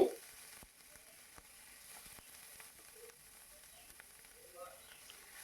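Onion paste frying in oil on a tawa with whole garam masala, a faint, quiet sizzle with occasional soft clicks and scrapes of stirring.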